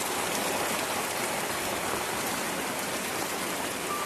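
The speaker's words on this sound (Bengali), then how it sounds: "তো এত বৃষ্টি হচ্ছে যে বাইরেই বার হওয়ার মতো না।" Heavy rain comes down in a steady, even hiss of dense drops on surfaces, continuous and fairly soft in level, with no voices.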